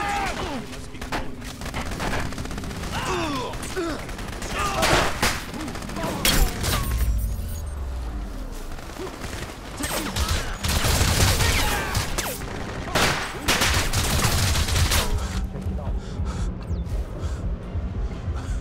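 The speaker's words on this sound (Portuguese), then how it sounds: "Vai dar muito tiro aqui, velho." Rapid gunfire and bursts of explosive booms from the video game Crysis Remastered, dense and loud throughout, mixed with game sound effects and occasional speech.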